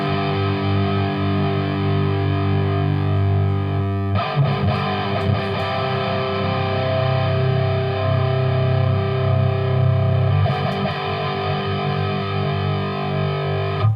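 Electric guitar played through a stereo pedalboard rig, sustained distorted chords ringing wide and full, with a fresh strummed chord about a third of the way in and another near the end, loud and continuous with no talk.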